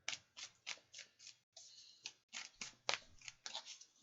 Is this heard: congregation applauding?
no